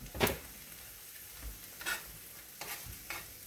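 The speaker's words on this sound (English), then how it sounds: "you just let it cook until the eggs get scrambled up and done in it" Poke salad greens cooking with eggs in an iron skillet, heard as a quiet, low background with a few scattered stirring scrapes and soft taps spaced irregularly, close up, with no talking.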